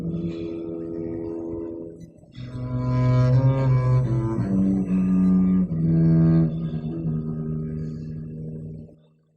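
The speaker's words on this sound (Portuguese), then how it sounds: "é Ecarane que toca o contrabaixo" A double bass in a chamber orchestra plays a solo of deep, resonant bowed notes, close and full, sliding between pitches before the final sustained tone fades to silence.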